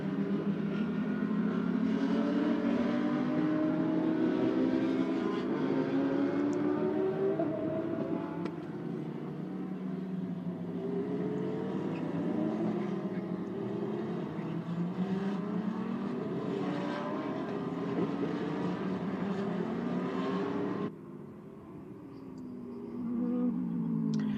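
GT race cars on Pirelli tyres in a China GT Championship race accelerate out of turns 4 and 5, a continuous layered engine roar with rising and falling revs from several cars, fairly loud, briefly dropping before resuming near the end.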